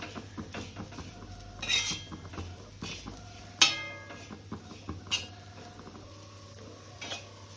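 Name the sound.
stirring bitter gourd fry with spices in a pan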